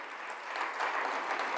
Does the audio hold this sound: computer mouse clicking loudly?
no